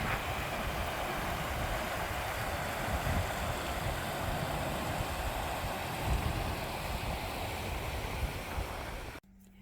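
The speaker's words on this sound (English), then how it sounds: "This is where the waterfall is coming from." Steady broadband rush of a waterfall pouring down near a mountain tarn on a windy day, continuous and fairly close, with wind mixed in and no speech, cutting off abruptly at the very end.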